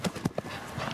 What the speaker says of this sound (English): galloping horse.